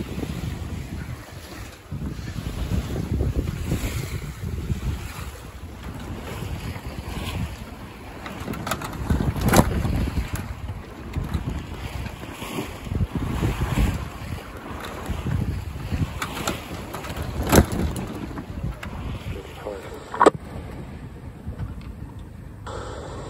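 A sailboat under sail with no motor, in about three Beaufort of wind, on a North Sea passage from Wangerooge to Cuxhaven. Steady wind roar buffets the microphone over water rush and hull noise, with a few sharp knocks.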